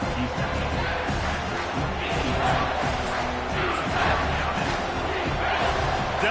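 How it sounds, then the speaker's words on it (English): Football stadium crowd roaring steadily on a third-down defensive stand, a dense, continuous wall of cheering and shouting that holds loud throughout with slight swells. "Decibels rising as the crowd gets behind this defense on 3rd down."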